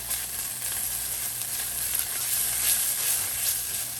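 Garlic powder, cumin, pepper and oregano being stirred in a hot pan, giving a steady close sizzle and hiss with faint scraping, no voices.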